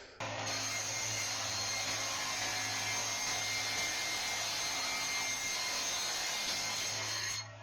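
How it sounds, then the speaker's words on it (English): A saw ripping long wood strips makes a steady, loud whining roar that runs unbroken for several seconds under a low motor hum, with no voices. "So I'm going to rip a bunch of strips, 4 5/8."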